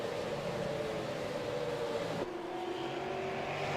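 Race cars in a racing video game circle New Hampshire Speedway in a Tundra Super Sim Series event, engines droning at a steady high pitch, then the tone drops abruptly as the car shifts, heard alone at moderate, even loudness.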